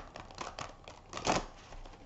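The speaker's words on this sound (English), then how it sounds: "Give this a better shuffle because that wasn't that good." Quick papery riffling and slapping of large, stiff tarot cards being shuffled, a few short bursts building to a louder flurry near the end, close up with no talk.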